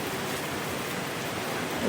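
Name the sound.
heavy rain falling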